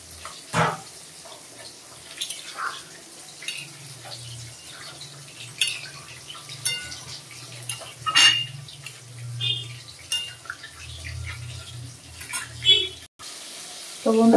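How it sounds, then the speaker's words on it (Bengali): Water poured into a pan of fish curry after frying the spices, with hilsa and taro to follow; a steady running pour with soft splashing and low kitchen rumble throughout, occasional clinks. "আমি জল দিয়ে দিলাম।"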